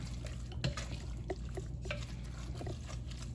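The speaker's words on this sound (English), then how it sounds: "Give all this a good stir." A spoon stirs pineapple salsa with jalapeno, basil and diced red onion in a bowl, making soft wet squelching and clicking sounds in an irregular rhythm, close and fairly quiet.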